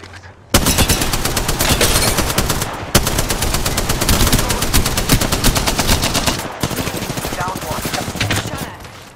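Sustained rapid automatic gunfire in the video game Apex Legends, dense continuous bursts broken by a few brief gaps, loud and close, with faint talk underneath.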